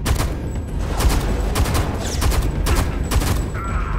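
A light machine gun in the shooter Homefront The Revolution fires loud, steady bursts of automatic gunfire, with repeated close shots running the length of the clip.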